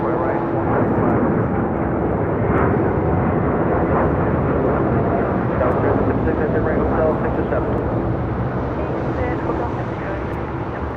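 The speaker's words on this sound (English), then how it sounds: "This is United Airlines Flight 39 taking off to Tokyo Haneda on a 787-10 Dreamliner" A United Airlines Boeing 787-10 Dreamliner taking off from LAX produces a loud, continuous roar of jet engines, steady and wind-buffeted throughout.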